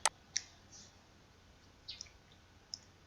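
A computer mouse clicks a few times in a quiet room, producing sharp, faint, isolated clicks at irregular intervals with near-silence between them.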